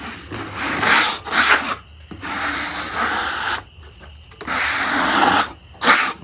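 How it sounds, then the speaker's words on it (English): A tool scrapes across a freshly sawn walnut slab straight off a homemade sawmill, giving a close, rough rasping in several long strokes separated by brief gaps. "Scrape it off, see what we got."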